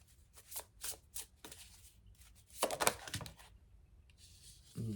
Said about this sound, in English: Okay, so this is the pre-shuffle